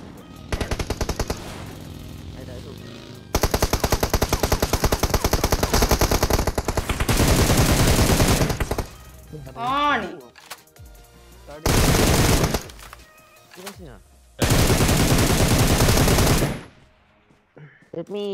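Automatic gunfire in the mobile battle royale game PUBG Mobile rattles in long, loud, rapid bursts separated by short pauses, with a few single shots and brief quieter stretches between.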